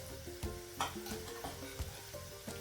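Spices being stirred into a pan for a fresh rajma curry: a short run of soft scraping strokes with light clicks of a spoon against the pan, close and fairly quiet, with no talk.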